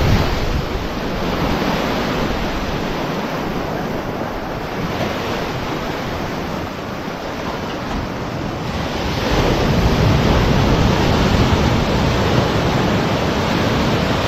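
Waves and rushing water at Mousuni Island, a loud, continuous broadband wash of surf with wind buffeting the microphone, swelling louder toward the end, no voices.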